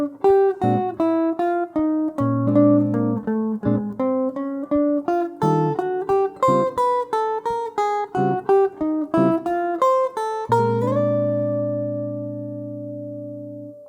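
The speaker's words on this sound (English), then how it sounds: "what you heard is a classic example of bebop articulation where almost every note is picked" A jazz guitar plays a fast bebop line with nearly every note picked, a steady stream of crisp separate attacks, close and clear, ending on a held ringing chord.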